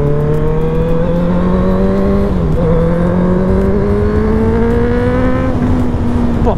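A 2017 Honda CBR 650F motorcycle engine drones loudly and up close, its pitch climbing steadily through the gears with a brief dip at a shift, a smooth rising whine over a rough rumble.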